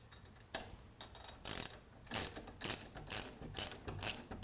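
A hand ratchet clicks in quick repeated strokes as it tightens bolts on the lower crash bar clamps of a water-cooled BMW R1200GS motorcycle, close and fairly crisp with a steady rhythm.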